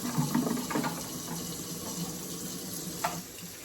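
Tap water runs steadily into a sink while plastic parts of a pet water fountain are rinsed out, a close continuous splashing flow with a few light knocks early on.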